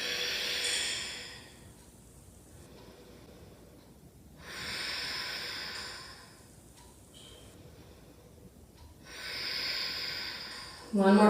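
Slow, audible breaths drawn in and let out during a restorative yoga flow, several long inhale-exhale swells in a quiet room with a brief voice at the end.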